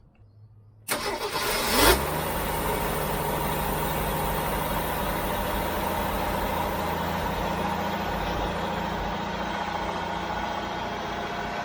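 A Jeep CJ-7 engine cranks and fires after near silence, then settles into a steady, close, loud high idle that runs evenly for about ten seconds, tested for fuel pressure after a new fuel regulator is fitted.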